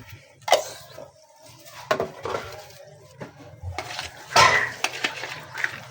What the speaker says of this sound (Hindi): फिर मिक्स करेंगे ताकि नमक हमारा अच्छी तरह से मिक्स हो जाए